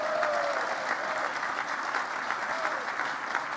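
Steady audience applause at an award ceremony evening, a dense even wash of many hands clapping throughout, with a faint voice briefly audible under it.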